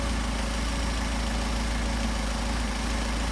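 An engine fitted with Solex 44PHH carburetors idles in a steady, even drone that stays constant and close, with no voices over it.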